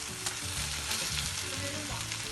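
Boiled Hakka noodles fry with vegetables in a pan, a loud, steady, close sizzle that runs the whole time, with faint stirring movement under it.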